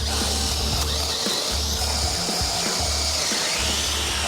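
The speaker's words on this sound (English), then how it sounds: "We can then just drill that out." A power drill boring out an oak timber dowel, a loud continuous grinding whir with rough wood-chewing texture and brief dips in pitch as the bit bites.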